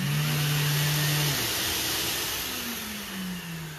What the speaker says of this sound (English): Anytime I engage my sander, it automatically turns my vacuum on.